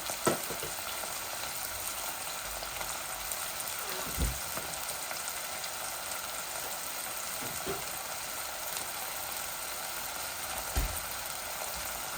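Ginger, garlic and onion fry in a pan with a soft, continuous sizzle and occasional light stirring knocks, fairly quiet and steady throughout.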